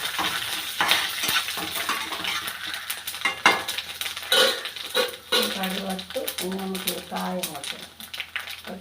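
Chopped njalipoovan plantain goes into a pan for thoran and is stir-fried. It gives a close, busy run of scraping spatula strokes, utensil clatter and sizzling, with a voice speaking briefly over it.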